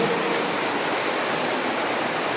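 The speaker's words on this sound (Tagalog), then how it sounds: "Tagag-tagag ka tubig." Steady broadband rush of water flowing and dripping inside a cave, an even, continuous wash like falling rain with no voices or distinct drops standing out.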